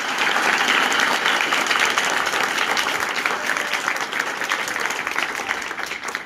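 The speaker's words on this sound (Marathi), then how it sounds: "त्यांच्यासाठी टाळ्या वाजवा." Dense, steady applause from an audience at a school gathering, many hands clapping together loudly and evenly for about six seconds before easing slightly toward the end.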